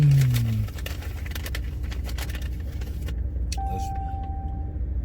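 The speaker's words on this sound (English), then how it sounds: "Y'all hear that V8?" A V8 car engine gives a steady low rumble as the car cruises through Chicago's South Side, close and continuous for the whole stretch, with a faint thin whine near the end.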